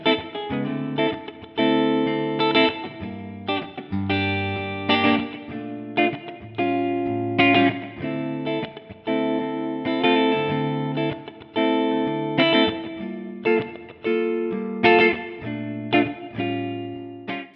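An Eastman Romeo electric guitar with low-output humbuckers plays rhythmic chord phrases through effects with a touch of drive and chorus, each strum ringing out clearly with no talking.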